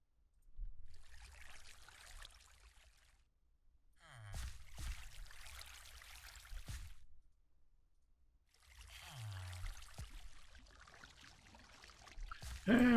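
Buckets of water are poured out in a Minecraft modpack world, three separate splashing pours each lasting a couple of seconds with short gaps between, fairly soft and close.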